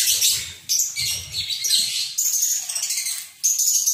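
Caged cucak ijo birds chirp in quick, bright bursts of high, clear calls that follow one another almost without a break, close by and fairly loud.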